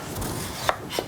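Two sharp knife chops strike a cutting board as turnips are cut into sticks, spaced a moment apart over a faint room hum.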